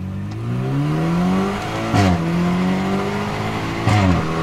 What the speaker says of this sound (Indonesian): kita mau coba ketika mode sport dan kita gaspol sampai dari 20 km per jam sampai ke 100